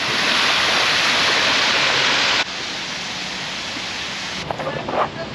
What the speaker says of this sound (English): We are at the Fort Worth Water Gardens.